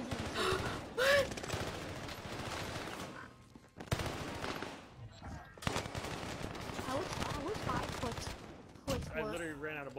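Rapid bursts of gunfire from a video game shooter, sharp volleys separated by brief pauses, mixed with a voice talking over the action.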